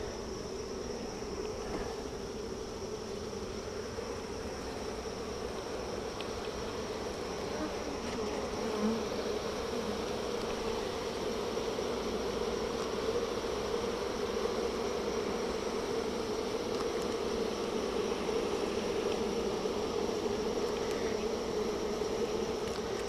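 A dense, steady drone of many defensive honeybees buzzing close by around an open hive during an inspection, continuous and even throughout, with no voices.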